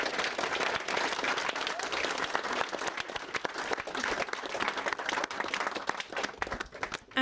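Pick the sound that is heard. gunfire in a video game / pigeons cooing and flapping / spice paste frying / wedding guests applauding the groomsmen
wedding guests applauding the groomsmen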